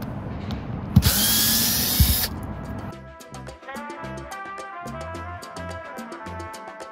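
A power drill whines for about a second as it backs screws out of an RV roof vent, then falls silent, with clicks and handling noises following.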